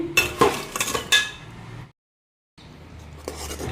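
Organic jaggery syrup being stirred in a pan, a series of close metal utensil scrapes and clinks against the pan, then a brief silent gap before quieter stirring resumes.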